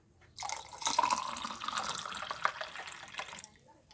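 Chilled homemade watermelon juice pours into a glass holding soaked sabja seeds, giving a close, steady splashing gurgle for about three seconds that starts abruptly and trails off.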